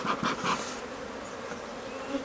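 Honey bees hum and buzz around a nucleus hive during an inspection, a close, steady drone with a few louder passes early on.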